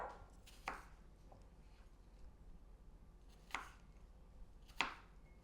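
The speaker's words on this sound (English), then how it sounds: "Go ahead and keep chopping on that" A knife chops through apples on a cutting board, giving a few sharp, separate cuts spaced a second or more apart, soft and close, with a faint room hum between strokes.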